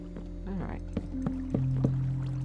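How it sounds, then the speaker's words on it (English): Water poured from a bucket in Minecraft Sky Factory 2, a short gurgling splash followed by steady flowing water and several clicky placement sounds, all over a constant low game drone. "Putting water on there until such time, hup, as I get... Z slabs."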